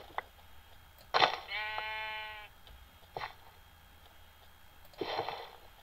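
Sheep in the Minecraft video game bleat in short bursts, a long wavering bleat near the start followed by brief calls spaced a few seconds apart, clear and unaccompanied by talk.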